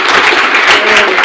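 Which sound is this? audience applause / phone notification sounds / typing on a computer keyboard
audience applause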